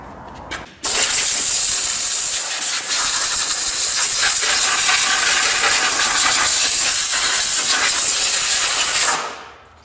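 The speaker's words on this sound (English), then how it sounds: "Then I will spray it with black paint." A loud, continuous aerosol spray of black paint onto a Ford 5610 tractor part hisses for several seconds after a brief rattle, then cuts off abruptly.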